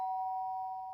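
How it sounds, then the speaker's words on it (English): A sustained electronic doorbell tone from the video game Danganronpa hums steadily for a second, clean and isolated, slowly tapering. "The sharp sound of a doorbell pierced my sleepy haze and pulled me back to the real world."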